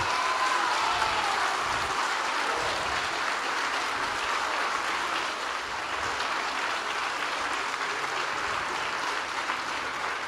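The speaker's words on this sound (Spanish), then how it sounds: "Seguiréis aplaudiendo porque no acaba ahí." A theatre audience at a talk show with José Luis Rodríguez Zapatero applauds in a sustained, dense wash of clapping that holds steady and loud for the whole stretch.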